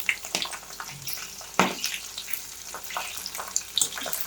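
Sprout pakodas deep-fry in hot oil, bubbling and crackling up close in uneven bursts, with a sharper spatter partway through and no talking.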